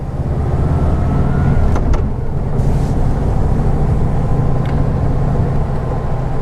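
Steady, loud engine drone and road rumble inside a vintage VW Beetle driving at about 50 mph, measured around 74 dBA, a continuous low hum with a few brief clicks and no voices.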